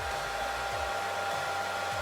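A hair dryer runs steadily on its cool setting with a ping pong ball floating in the airflow, giving a continuous close whoosh of fan noise and motor whine with a faint low flutter and no talk.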